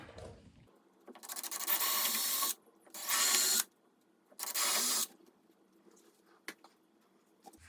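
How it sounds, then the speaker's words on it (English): A power drill bores screw holes for lights on a 1969 Glasspar Tacoma 14 boat, three loud sustained bursts of about a second each, separated by short pauses, followed by a few faint clicks. "holes marked for the screws. Get those drilled."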